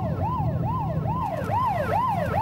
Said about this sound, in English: An ambulance on call.